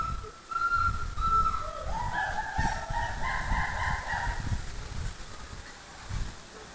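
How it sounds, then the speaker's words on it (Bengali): A fowl in a zoo cage gives drawn-out honking, whistle-like calls in two or three rising notes over steady background noise, with no one speaking. "ও নিচে একটা দারুণ মুরগি"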